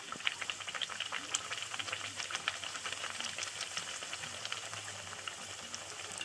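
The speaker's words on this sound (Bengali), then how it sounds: "সেই কড়াইশুঁটির কচুরিগুলোকে এক এক করে ভেজে নেব।" Green peas kachori frying one by one in hot white oil in a kadai, a faint steady sizzle with light crackling bubbles throughout.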